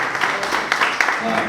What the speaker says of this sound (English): I want us to clap for Andrew Irumba